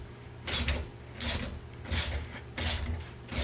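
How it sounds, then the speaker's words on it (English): A 5mm ratchet loosening a thread-locked handguard bolt on a Kawasaki Versys-X 300 motorcycle, five close, evenly spaced bursts of rapid ratcheting clicks, each with a short pause between strokes. "Same 5mm ratchet we were using before."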